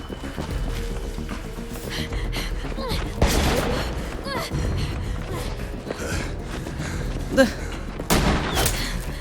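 Gunshots in The Walking Dead video game, scattered sharp reports and bursts over a busy background, with voices heard at times.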